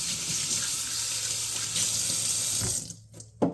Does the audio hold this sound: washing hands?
yes